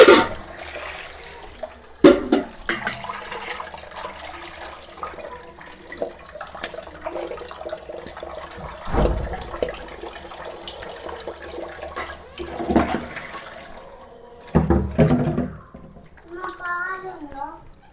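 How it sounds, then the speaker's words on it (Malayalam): Water gushes steadily from a tap, splashing continuously while people talk over it and a voice rises near the end. "ഈ പൈപ്പിനകത്ത് ഇത്രയും വെള്ളം വരും"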